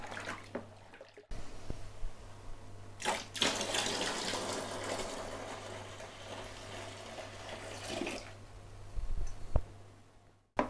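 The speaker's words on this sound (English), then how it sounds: "top this up with cold water to the 40 pint or 23 litre mark on the bucket" Cold tap water pours steadily into a home brew bucket to top it up toward the 23 litre mark, a continuous gushing splash that swells for several seconds with small clunks and drips at the start and end.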